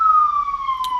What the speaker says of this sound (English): We got a siren outside.